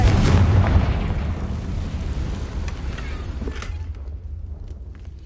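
A Confringo explosive spell in Hogwarts Legacy bursts with a heavy boom at the start, then a long rumbling, crackling decay that fades to near silence.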